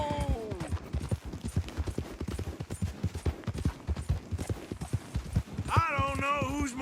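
Horse galloping in Red Dead Redemption 2, a rapid rhythmic clip-clop of hooves throughout, with a brief whinny-like tone at the start and a musical swell near the end.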